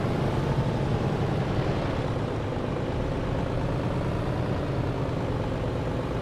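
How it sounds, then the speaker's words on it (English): An old gen truck engine in the TruckersMP driving game, a steady deep rumbling drone heard alone and unbroken throughout, fairly loud and close. "This is what the old gen engine sounds like now?"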